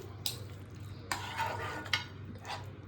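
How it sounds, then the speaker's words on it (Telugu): Multigrain white sauce pasta being stirred in a pan, a steady wet churning with a few sharper scrapes and clinks of the spoon against the pan over a low hum, close and with no talk. "ఇలా వేసిన తర్వాత బాగా కలుపుకోవాలి."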